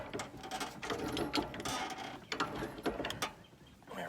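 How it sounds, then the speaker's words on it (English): Pliers grind and click close up as they tighten a gas pipe on a Pentair MasterTemp pool heater, giving a rough, uneven run of metallic scraping and ratcheting with no talking. "Tightening this pipe."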